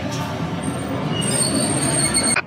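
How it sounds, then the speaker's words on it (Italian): An electric tram in Nagasaki rolls past nearby with a steady loud rumble and a high wheel squeal that rises midway and cuts off near the end, with no talk. "con i tram elettrici."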